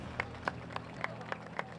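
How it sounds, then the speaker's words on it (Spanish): A few hands clap in a steady, evenly spaced rhythm of about six claps, faint and sparse, with a low hum underneath, as an audience applauds its party leaders. "yo pido un fuerte aplauso para cada uno de nuestros líderes"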